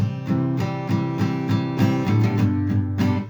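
Strummed acoustic guitar chords with a quick double stroke between chord changes, steady rhythm, close and clear.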